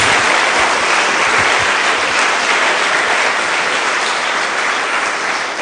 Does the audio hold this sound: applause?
yes